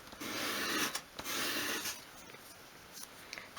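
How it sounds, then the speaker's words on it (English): A small wooden piece is swept along a sheet of sandpaper on a worktop to form a bevel, giving soft close rasping strokes, two longer scrapes followed by lighter, fainter rubs. "I just place it at a 45-degree angle on a sheet of sandpaper on my worktop, and then just sweep it towards me"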